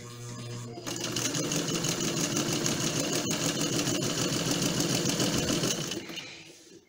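Electric sewing machine stitching a straight seam on fabric, starting up after a brief hum and running steadily with a fast rhythmic whir for about five seconds before slowing to a stop; close and clear.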